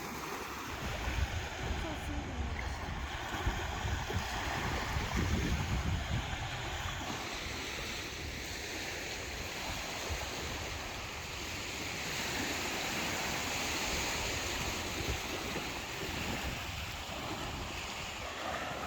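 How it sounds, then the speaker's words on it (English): Surf washes steadily onto a beach along the Mackinaw City ferry route, with strong wind buffeting the microphone throughout and a continuous broadband roar. "And we're just taking a little walk on the beach here"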